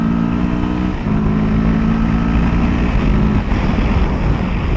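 A Kawasaki Versys 650 motorcycle engine roars steadily under hard acceleration in second gear, its pitch climbing with a loud, close, rasping drone and rushing wind.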